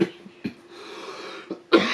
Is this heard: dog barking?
no